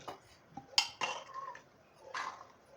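A pressure cooker of cooked green peas is opened, its metal lid clanking alongside a few sharp clinks of dishes, close and sparse in a quiet kitchen.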